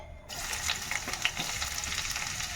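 Food hits hot oil and bursts into a busy, crackling sizzle after a brief quiet start, then fries steadily up close, with no talking.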